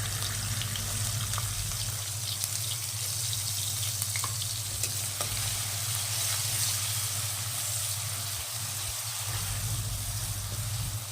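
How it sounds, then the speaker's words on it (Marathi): Onions sautéing in a pan with cumin and asafoetida, an even, unbroken hiss of frying that holds steady at moderate loudness, with no talk. "दोन 3 मिनिटं असं परतून घ्यायचं"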